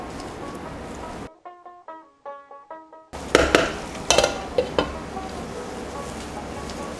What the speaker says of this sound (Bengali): সব কিছু একটু ভালো করে মিশিয়ে নিচ্ছি